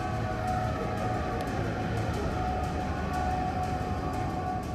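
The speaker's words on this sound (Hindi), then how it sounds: "रॉकेट गिरने के बाद बगदाद में सुरक्षा सायरन की आवाजें गूंजने लगी हैं।" Security sirens sound over Baghdad after a rocket strike on the Green Zone near the US embassy, a steady, dense wail with continuous broadband rumble filling the background, sustained without breaks and no voices.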